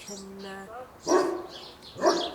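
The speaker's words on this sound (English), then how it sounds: "the dogs have started barking" Dogs bark twice in close succession indoors, loud, sharp woofs rising out of a quieter room after a brief stretch of speech-like tones.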